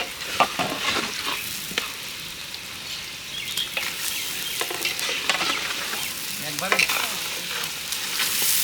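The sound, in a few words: Hilsa fish frying in spice paste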